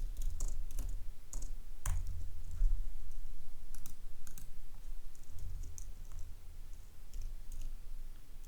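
Keys tapped on a computer keyboard in short bursts of rapid clicks separated by brief pauses, close and fairly clear over a low background hum, with no talking.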